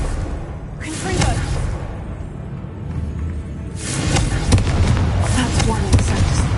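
Explosive fire-spell blasts from the Hogwarts video game, two loud bursts with broad rumbling booms and crackle, the first near one second and a longer one from about four seconds on, over continuous game noise.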